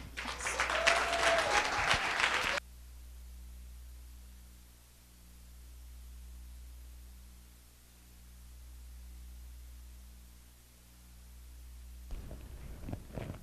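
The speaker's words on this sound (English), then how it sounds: "let's give a very warm applause to Dr. Green and welcome her to the stage" Audience applause welcoming a speaker to the stage at a 2016 S.T.E.A.M. women's empowerment conference hosted by Rutgers Student Affairs, a dense burst of clapping that cuts off after a few seconds, leaving a low steady hum, with faint stirring near the end.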